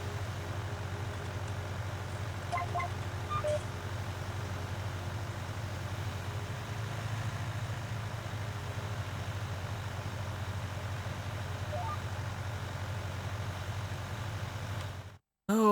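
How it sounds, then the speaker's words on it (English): A Ford 8000 series tractor engine in Farming Simulator 19 drones at a steady low idle-like rumble, continuous and fairly close throughout, with a few faint clicks partway through and an abrupt cutoff at the end. "Ford 8000 series tractor."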